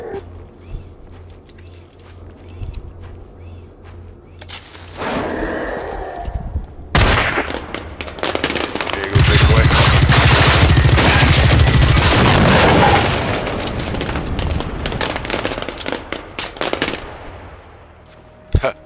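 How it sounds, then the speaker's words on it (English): Fireworks set off in the video game Generation Zero as a stand-in for flares, a long stretch of dense, loud crackling bursts and booms building to a sustained roar mid-clip, with quieter ambience before and after. "I'm out of flares, by the way. That's why I'm using fireworks."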